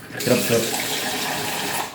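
Water pours from a tap into a container to test a waterproof Scarpa Mistral GTX hiking boot, a steady close splashing and filling rush running throughout, with faint voice-like sound early on.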